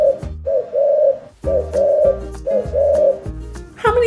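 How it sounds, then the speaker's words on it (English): Pigeons coo close by in a steady rhythmic series of deep, throaty calls. Several repeated phrases follow one another with short gaps and no talking. "How many pigeons do you see?"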